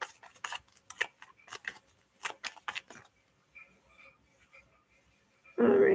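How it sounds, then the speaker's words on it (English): Tarot cards are shuffled by hand in quick, crisp riffling bursts with rapid papery clicks, then a pause with faint background noise before a voice starts speaking at the end. "So you see, I'm shuffling a lot."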